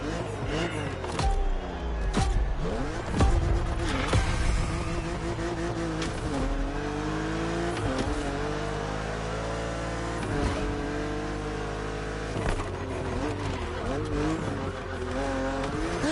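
Racing cars in The Crew Motorfest roar continuously with revving engines, shifting pitch and squealing tires, loud and sustained throughout with speech partly mixed in.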